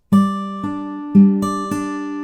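A clean fingerpicked guitar riff: plucked notes and pinched pairs of the 5th and 1st strings ring out one after another in an even rhythm, close and clear, with no talking.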